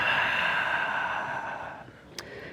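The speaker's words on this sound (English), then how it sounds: "we're gonna take a nice deep breath in, slight hold, and then you're gonna let it go" A long, deep exhale during a yoga breathing exercise, a steady airy rush of breath that gradually fades, followed by a brief soft click near the end.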